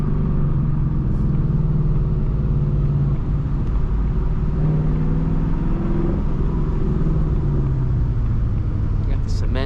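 A 2024 Ford Mustang GT running an H-pipe exhaust rumbles loud and close in a steady, deep drone while driving, with the pitch rising and falling slightly under throttle.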